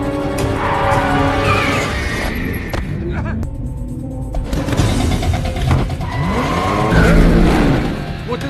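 Red car speeding away in an escape scene from Hitman: Agent 47, with engine roar and tyre noise mixed under film music and dialogue, loud throughout with a brief drop midway.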